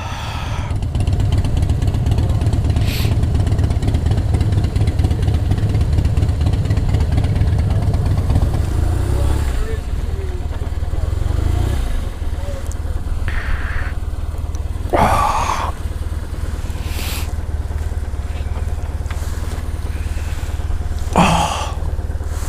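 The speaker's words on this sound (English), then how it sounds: "Oh, nice bit of diesel there." A diesel engine idles close by with a steady low rumble through the whole stretch, its tone shifting partway through, while a few brief voices and sharp knocks sound over it.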